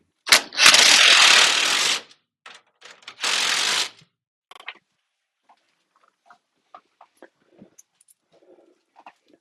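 Lock nuts are ratcheted down onto studs on a Sprinter 170 bed support frame, two bursts of rapid close ratchet clicking followed by scattered small metallic taps and handling noises.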